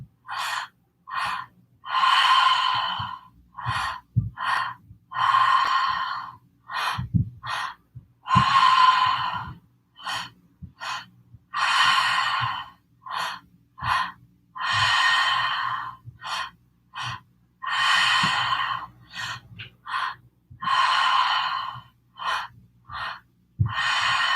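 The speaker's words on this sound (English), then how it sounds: "Just about 2 more minutes with this active breath." Active pranayama breathing during a meditation session, a steady series of loud, forceful breaths close to the microphone, each inhale and exhale clearly separated by brief pauses, repeating in an even rhythm without speech.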